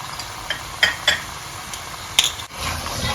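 Ginger garlic paste, salt and cumin powder stirred in a pan while making spicy turkey, with a few scraping and clinking spoon strokes over a low sizzle.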